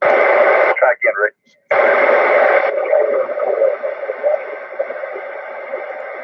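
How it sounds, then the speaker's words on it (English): An amateur radio simplex net relays a weak signal with the squelch held open, so a faint voice is buried in steady hiss and static after a stronger burst of transmission and a brief dropout. "you can hear I had to open up the squelch, and I can hear him in there, but not very well"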